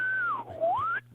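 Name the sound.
whistling sound imitation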